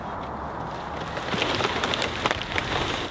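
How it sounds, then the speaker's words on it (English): Heavy rain pours steadily on an outdoor construction site, a dense close hiss with scattered sharper drips and splashes, alone with no voices. "On concrete delivery day, I woke up to some heavy rain."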